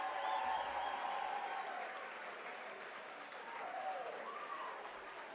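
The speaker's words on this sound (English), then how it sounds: "Let's give a round of applause for Dan and Helen Fitzpatrick" Soft, steady applause from an audience honoring Dan and Helen Fitzpatrick, heard at a distance and fairly faint, a continuous patter with voices murmuring faintly underneath.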